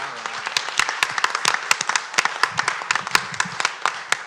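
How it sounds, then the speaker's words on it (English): A small room of people clapping at an advisory board meeting, sharp individual claps clearly separated in an uneven rhythm, close and fairly loud. "let's give one more round of applause for Stephen."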